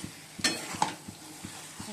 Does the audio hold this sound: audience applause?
no